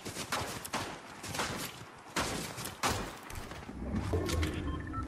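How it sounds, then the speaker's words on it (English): A player in Fortnite fires shots in scattered quick bursts, fairly faint and distant, alongside thuds and footstep-like game noises. "there's a player shooting at me"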